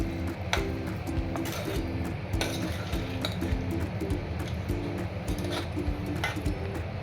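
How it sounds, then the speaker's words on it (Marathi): Okra being mixed with spices and yogurt in a pot, a spoon scraping and clinking against the metal in an uneven rhythm, close and moderately loud, with a soft repeating bird call in the background. "आई व्यवस्थित एकत्र करून घेत आहेत भेंडी, मसाले आणि दही"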